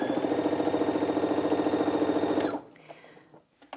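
A Brother Innov-is A16 sewing machine running at top speed gives a loud, fast, even mechanical whir that stops abruptly, leaving faint clicks and handling noises.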